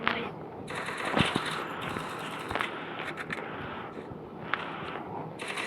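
Gunfire in a mobile shooter video game, bursts of rapid automatic shots and sharp single cracks over a busy background of game effects.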